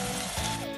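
Steady, dense sizzling of tomato paste frying with onions in a pan, continuous and fairly close with no break across the short stretch.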